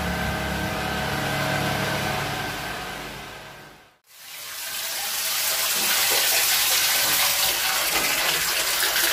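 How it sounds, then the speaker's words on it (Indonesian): Water gushing steadily into a home bathroom after an electric pump is switched on; a loud, dense rushing flow that cuts out for a moment, then quickly builds back to full strength. "Sudah bisa mengalir airnya dulur"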